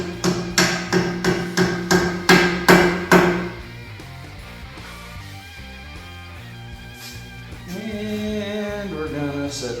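A hammer strikes in a workshop while a Dana 70 axle is being fitted, about eight loud, evenly spaced blows in the first few seconds, then quieter clanking and shop noise.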